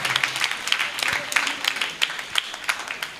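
A church congregation claps for God and Mother Mary during a Holy Mass, a steady patter of many hands with irregular louder claps, fairly close and filling the space.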